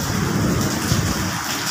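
Heavy rain pours down at a construction site beside the sea, a dense, constant hiss and rumble without pause.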